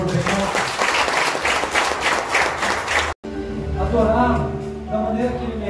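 A church congregation at a Sunday graduation service applauds loudly and continuously for about three seconds, then the clapping gives way to voices and music filling the hall.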